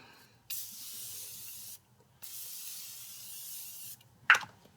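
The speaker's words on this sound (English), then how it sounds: "And there's the setting spray." Makeup setting spray misted in two sustained bursts of about a second each, close and crisp with a brief pause between, then a short sharp click or tap at the end.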